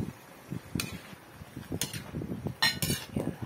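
A utensil stirs chicken coated with plain mayonnaise in a pot for adobong manok, giving soft scraping and sloshing strokes with several sharp metallic clinks against the pot, close and fairly quiet.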